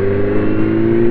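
A Kawasaki Z900 inline-four motorcycle pulls under acceleration, a loud, close, sustained engine drone holding an even tone with no voices.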